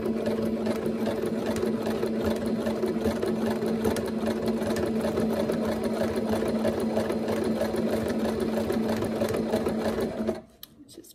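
Singer sewing machine with a wide open-toe presser foot stitching through thick three-layer fabric, a steady close rapid mechanical hum that runs for about ten seconds before stopping.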